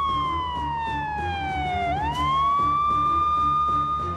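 A vehicle hooter siren in Uttar Pradesh wails loud and near in a single long sweep that falls, then rises and holds over steady road rumble, with no talk.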